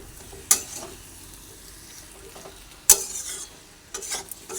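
A pan of cucumber, potato and dal being stirred for a vegetarian dish, with a few sharp scrapes of the spoon against the pan over a quiet background of soft cooking noise.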